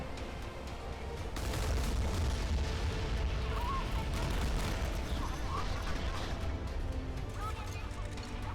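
Heavy, continuous booming cannon fire from a naval battle game, with dense rumbling blasts and clatter throughout and a voice talking faintly underneath.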